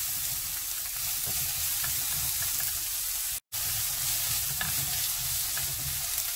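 Carrots and onions are stir-fried in a pan for mushroom japchae, giving a continuous loud sizzle with light stirring, broken by one split-second gap of silence.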